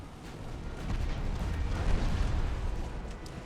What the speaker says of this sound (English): Here comes another wave of fucking torpedoes.